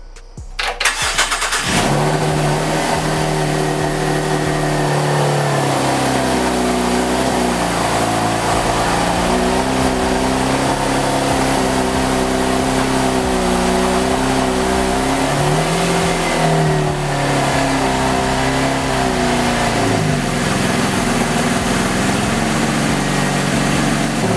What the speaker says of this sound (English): let's crank it up, see how it sounds